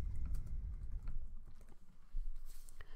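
A title is typed into a web page's code on a computer keyboard, a quick run of light, close key taps that clatter unevenly over a soft low hum.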